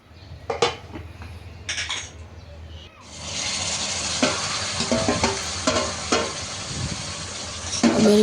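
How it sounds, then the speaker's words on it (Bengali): Sliced onions frying in a pan of oil until crisp and brown, a few clinks and scrapes of utensils first, then a loud, continuous close sizzle with repeated stirring knocks over it. "তো প্রথমে পেঁয়াজ ভেজে নিচ্ছি"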